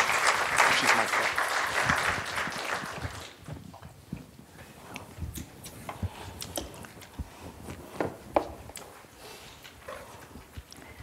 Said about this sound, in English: Please give her a round of applause, everyone.